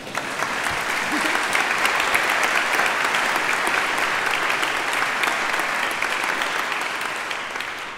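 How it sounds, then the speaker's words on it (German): A concert audience claps in a full, steady round of applause, dense and evenly sustained for several seconds, tapering slightly at the end, with no voices over it. "Sie können ruhig noch mal klatschen."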